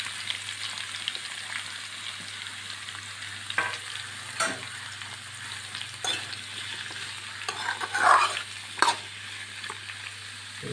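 Beetroot, potato and carrot stir-fry in a pan with mustard seeds, a steady close sizzle broken by a few scraping stirs and small pops, with no talk.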